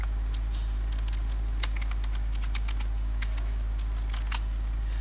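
Rapid, light clicks of typing code on a computer keyboard, near and steady without pause, over a constant low hum, with no talking.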